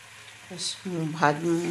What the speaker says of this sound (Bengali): এই দেখো, ভালো করে কষিয়ে নিচ্ছি।